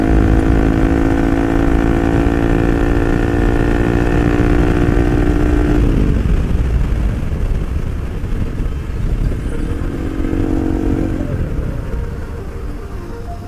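A loud modified motorbike engine revs hard and close, holding a high steady roar that drops abruptly midway to a rough rumbling idle, then briefly revs again before easing off.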